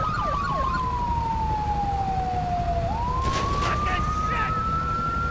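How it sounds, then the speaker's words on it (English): A police siren wails in the video game GTA 5, a single clear tone sweeping slowly down and then back up over steady low engine rumble, with a brief burst of other noise partway through. "Turn another siren off, dude."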